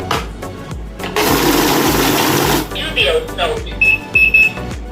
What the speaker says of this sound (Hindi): जहाँ भी वो नकली नोट पास होगा मशीन स्टॉप हो जाएगी, बीप देने लगेगी।